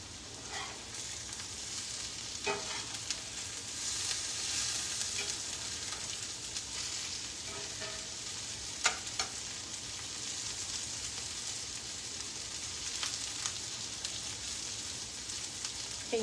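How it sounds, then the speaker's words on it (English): Six eggs cook over a potato hash in a pan with a steady, moderate sizzle and faint crackling pops, left unstirred, with no one talking. "6 eggs over the top of this potato mix, and we're gonna let them just cook"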